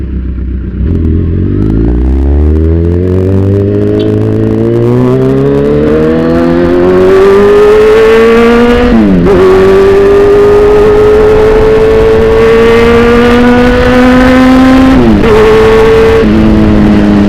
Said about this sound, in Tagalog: So itong motor ko,